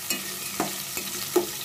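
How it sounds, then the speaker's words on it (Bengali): Thin vermicelli frying in ghee while being stirred, giving a soft steady sizzle broken by a few brief scraping strokes of the spoon at an even pace. "সেমাইটা ভাজাই, যেহেতু এই সেমাইটা ঘিয়ে ভাজা থাকে।"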